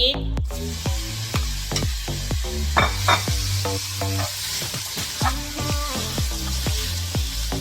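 Beef sizzling hard in a hot pan with a tablespoon of vegetable oil, steady loud frying hiss with a rapid train of sharp metallic scrape-like stir clicks throughout, close and continuous.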